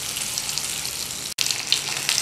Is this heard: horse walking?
no